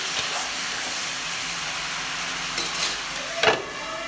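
Steady hiss and sizzle of garlic-ginger paste frying in a hot pan, with a brief scrape of stirring near the end, close and continuous.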